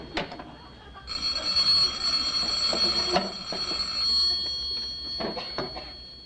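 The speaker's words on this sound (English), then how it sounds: "Ah, there's the phone." Telephone bell ringing in a home on a live television comedy broadcast, with bright repeated rings in bursts and some background sounds between them, fairly close and with no speech.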